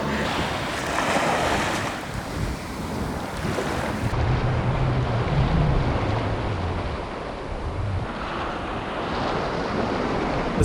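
Steady wind gusts buffet the microphone alongside a continuous roar of surf on a Sardinian beach, loud and unbroken throughout.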